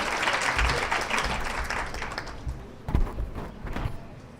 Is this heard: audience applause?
yes